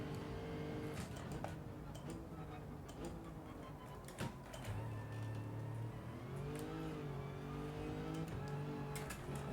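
A race car engine in Gran Turismo 7 drones steadily, holding a continuous tone that rises and shifts through gear changes and throttle, loud and without talk.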